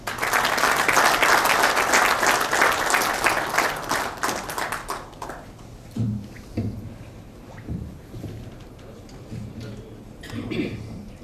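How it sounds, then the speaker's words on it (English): Loud, dense applause from an audience at an industry association's annual general function in Goa, sustained for about five seconds before tapering into a few scattered claps and faint movement. "Please welcome him with a thundering round of applause."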